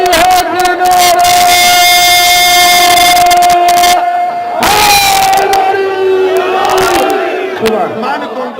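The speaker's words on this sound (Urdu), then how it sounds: "مومن مل کے بلند آواز سے علی ہے کے نعرے" A large crowd at a Shia religious gathering for the 15 Shaban celebration raises a loud, sustained collective chant of a devotional slogan, full and close, with bursts of cheering and voices swelling in waves.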